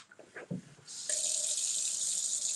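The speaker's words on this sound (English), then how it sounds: "Let me wash my apple." A kitchen tap opens and water gushes steadily into a sink to wash an apple, a close, continuous hiss following a few soft handling knocks.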